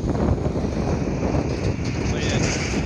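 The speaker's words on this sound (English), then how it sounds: "it's really windy too" Strong outdoor wind buffets the microphone on a breezy day, a continuous low roaring rumble that stays loud and close throughout, with a voice faintly present beneath it.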